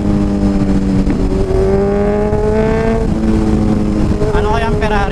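A Ferrari sports car drives past with a sustained engine note that climbs and falls in pitch, loud and close, while people talk over it throughout.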